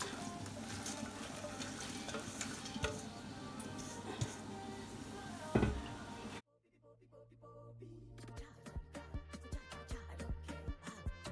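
Vegetables fry and sizzle in oiled pot while being stirred for a Zimbabwean oxtail dish, a dense crackle broken by a sharp clatter, then quieter scraping and tapping of the spoon after a sudden drop.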